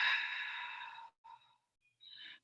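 Deep breaths during a vinyasa yoga flow: one long audible exhale, a short breath, then another exhale, all close and quiet.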